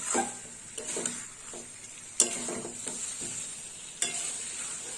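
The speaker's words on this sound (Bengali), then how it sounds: "এইভাবে কষিয়ে নিতে হবে পটলের সাথে পোস্ত আর সর্ষে বাটা দিয়ে" Pointed gourd fried in a pan with poppy seed and mustard paste, a steady close sizzle broken by several sharp scraping stirs of a spatula, with no voices.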